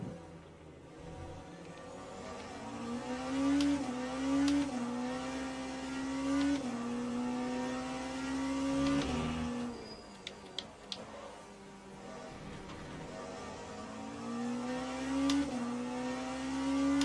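GT3 race cars in the Le Mans Ultimate racing game at Interlagos, including a BMW and a Ferrari, with engines revving up and shifting through gears, pitch rising and dropping repeatedly, plus brief clicks and ticks, loud and continuous with no talking.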